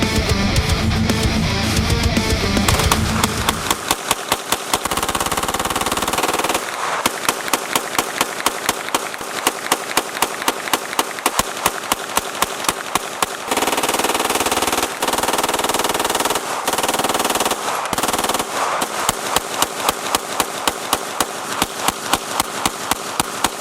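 Rapid handgun fire during a 500-round burn-down test of a pistol fitted with a Trijicon SRO red dot: long strings of loud, fast shots in steady rhythm, with brief pauses for reloads.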